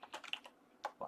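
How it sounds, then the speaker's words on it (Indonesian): Quick bursts of keystrokes on a computer keyboard, a cluster of rapid taps followed by a pause and two more presses, close and crisp with no talking. "Waduh, salah ngetik lagi"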